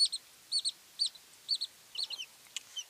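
High, thin peeping from ten small chicks under a red heat lamp, in a quick series of short, clear calls about half a second apart, fairly close and with no voices.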